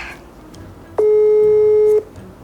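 One steady electronic telephone tone lasts about a second over a low background hum, then stops, leaving the line quiet.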